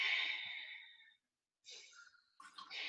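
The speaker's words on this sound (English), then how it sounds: "You are breathing out from the nose, but you are making a sound, like a ocean wave sound." Ujjayi breathing, an audible exhale through the nose with a soft ocean-wave hiss, heard close in two or three breathy bursts separated by a short silence.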